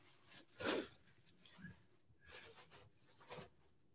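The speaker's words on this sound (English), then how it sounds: "that Reaper powder, though, man, that makes me sneeze like crazy" A loud, close sneeze triggered by Carolina Reaper pepper powder while cooking spicy strawberry cupcakes, followed by a few quieter sniffs and breaths, with no talking.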